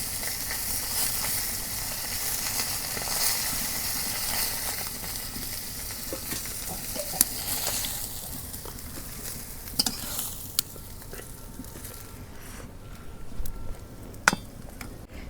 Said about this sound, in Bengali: এই দেখো কত ছোটো ছোটো মাছ আমি ভাজা নিতেছি